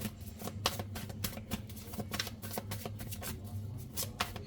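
Tarot cards being shuffled by hand: rapid, irregular flicks and riffles of card stock, close and crisp, continuing for several seconds without talk.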